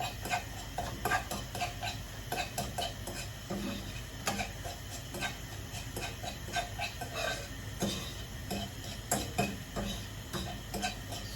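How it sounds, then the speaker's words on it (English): Rapid scraping and tapping of a utensil against a pan scrambling eggs, repeated steadily, with a faint sizzle underneath. "So, frying up the eggs."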